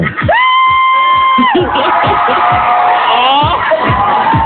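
A studio audience at a Filipino noontime variety show shouts and cheers loudly, with high shrieks and whoops forming a dense, continuous roar over several seconds.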